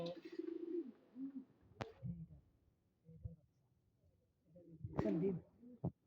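Pet pigeons coo in soft low bursts, a few separate phrases spread through the moment alongside other nearby sounds.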